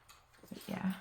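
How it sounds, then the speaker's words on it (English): A pet dog whimpers and whines softly in the background, a few short rising cries near the end of a quiet indoor moment, under a brief spoken remark. "If you hear a noise in the background, it's just my dog."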